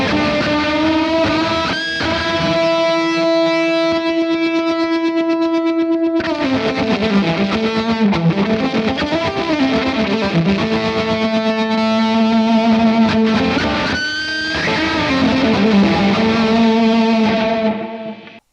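An electric guitar with fuzz distortion runs through a Mooer Trelicopter tremolo pedal, playing loud sustained chords and bending lines with a faint pulsing wobble, alone with no talk.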